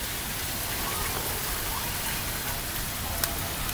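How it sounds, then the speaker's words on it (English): Steady rain pours down during a severe thunderstorm with tornado warnings, a dense, even hiss of drops close by that fills the whole clip without pause. "The rain was just coming all inside."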